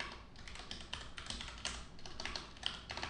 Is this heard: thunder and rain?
no